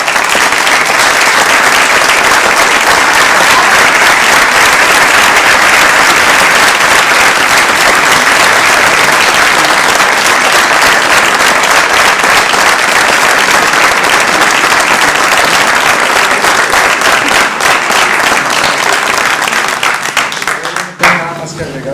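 Sustained, dense applause from a theatre audience after a performance of El Rey Creón at the Fundación Miguel Alemán, loud and even for the whole stretch before tapering off at the very end.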